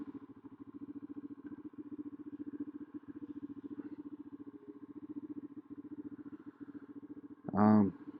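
1999 BMW F650GS motorcycle engine running smoothly at idle nearby, an even rapid thumping pulse, fairly quiet, ending in a short sharp louder burst.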